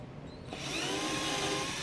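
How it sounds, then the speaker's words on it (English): A power drill pre-drilling a hole for a pin in a bandsaw circle-cutter jig whirs steadily at close range after a brief quieter start, its motor hum continuous to the end. "I'm going to pre-drill that hole."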